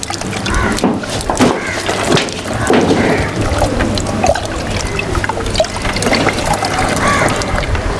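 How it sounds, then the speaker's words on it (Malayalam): Water is poured into a 2 litre plastic bottle, a continuous close trickling and filling gurgle, with a voice talking lightly over it. "2 ലിറ്റർ ബോട്ടിലേക്ക് കുറച്ച് വെള്ളം നമുക്ക് ഇതിനകത്തേക്ക് ഇട്ട്"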